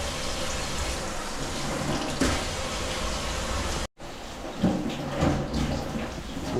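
Tap water runs steadily as seven rain-fresh colocasia (taro) leaves for alu vadi are rinsed from top to bottom, with a broad close-up splash that cuts out for a moment midway, then resumes with a few louder splashes.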